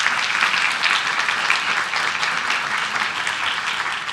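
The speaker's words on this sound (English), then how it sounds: "So can we get a round of applause for that?" Audience at a city council meeting applauding a tennis coach, a dense, steady round of clapping from many hands at moderate distance, lasting throughout.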